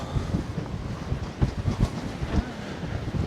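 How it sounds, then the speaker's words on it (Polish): Gusty wind at the top of a hill buffets the microphone in uneven rumbling bursts, loud and continuous with no talking. "A na górze, a na górze wieje."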